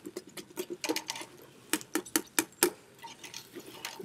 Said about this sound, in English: I'm going to go ahead and mix that up